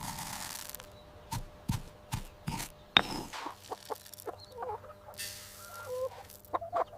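Laying hens on a countryside farm cluck and peck close by, with short bursts of clucking and soft calls scattered over faint background hum.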